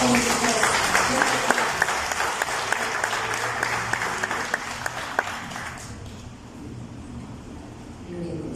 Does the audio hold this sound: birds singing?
no